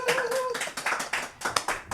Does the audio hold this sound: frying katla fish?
no